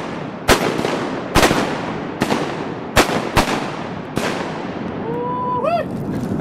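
Hunters firing shotguns at ducks: six loud, sharp shots in an irregular volley over outdoor background noise, followed by a brief duck call near the end.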